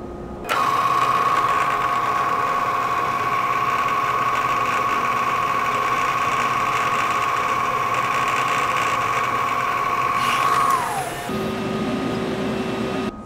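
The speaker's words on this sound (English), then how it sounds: "Now I just gotta get some oil and then go ahead and get the center hole started." Bridgeport milling machine drilling a center hole in round stock held in a collet block, a steady loud motor whine with a high tone that stops near the end, leaving a lower hum.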